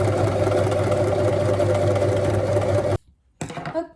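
Sewing machine stitching recycled clothes into scrunchies, a rapid steady mechanical whir for about three seconds, close and loud, then stopping abruptly before a short burst of clicks and handling noise.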